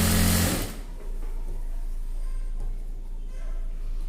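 A sewing machine stitches a chudi pant. A loud burst opens, then the machine runs close by with a steady, even whirring hum.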